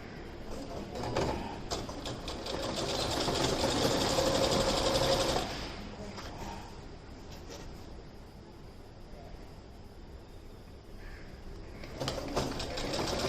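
A sewing machine stitches an apron with decorative thread, sewing from armhole to armhole. It gives a steady, close whirring run for about five seconds, then drops to a quieter hum before picking up briefly again at the end.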